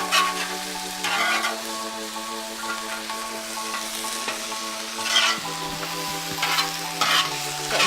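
Chicken stir fry vegetables sizzle steadily in a hot pan with stirring, a close, continuous hiss broken by a few louder scraping bursts, with a constant low hum underneath.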